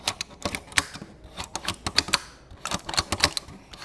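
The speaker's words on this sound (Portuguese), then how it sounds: "a professora pegou essa caixinha de plástico aqui e ela pode produzir som" A small plastic box is tapped and shaken to make sound, giving a rapid irregular string of sharp dry clicks and clacks, close and alone with no talking.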